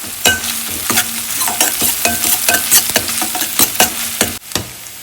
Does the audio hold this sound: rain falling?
no